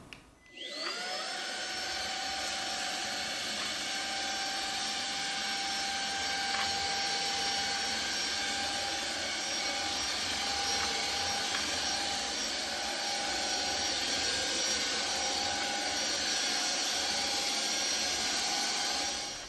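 A Puron PU20 handheld vacuum cleaner starts with a quick rising whine, then runs continuously in a steady high-pitched motor drone with a constant airflow hiss, close and loud, without talk.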